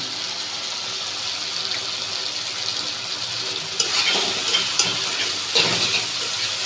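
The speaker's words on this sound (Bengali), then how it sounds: "আবারও কিছুক্ষণ কষিয়ে দিব।" A ground paste of mustard, poppy seed, green chili and salt sizzles steadily in an oiled pan with melting pointed gourd, a constant close frying hiss broken by a few louder spatters near the end.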